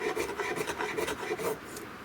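A hand rasp works wood off a 16-gauge European shotgun stock in quick, rhythmic back-and-forth strokes, a steady dry scraping close up with no talk.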